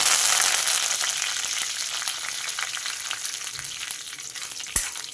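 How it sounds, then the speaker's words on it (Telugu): Lentils, cumin seeds and curry leaves fry in a pan with a loud, steady crackling sizzle that gradually softens, broken by scattered pops and a sharp utensil tap near the end, no voices. "ఇవి కొంచెం వేగాలి"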